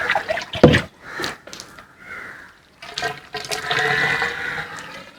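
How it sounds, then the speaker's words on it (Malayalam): Water splashes and gurgles through a hose being filled for a homemade water tank cleaner. The sound is uneven and close, with short bursts and a steadier gushing flow near the end. "ഒരു സൈഡിൽ കൂടെ നമ്മളങ്ങ് വെള്ളം നിറയ്ക്കുകയാണ്."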